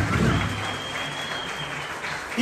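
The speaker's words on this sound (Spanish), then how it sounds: "quisiera me regalar un fuerte aplauso, pero para todos y cada uno de ustedes" Live audience applause at a family Mexican-night celebration, a dense steady wash of many hands clapping at moderate loudness, continuous for the whole stretch with a faint crowd murmur underneath.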